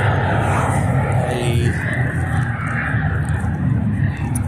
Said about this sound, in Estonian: Seal üks lennuk ongi õhku tõusmas